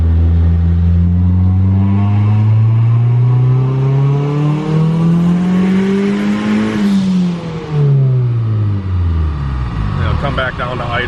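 Turbocharged single-cam Honda Civic EG hatch engine pulling hard, the engine note climbing steadily in pitch to a peak, then falling back as the revs drop, loud and close throughout.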